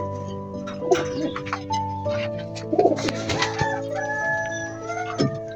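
Pakistani Giribaz pigeons coo in low, soft bursts close by, with other birds calling and a rooster-like crow mixed in over a steady background hum.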